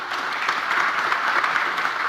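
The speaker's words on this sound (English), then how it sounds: "Round of applause for our panel," A conference audience applauds a panel at a local government good-practice event, with steady, dense clapping from many hands that stays loud and even throughout.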